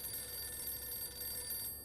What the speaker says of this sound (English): Don't answer that phone.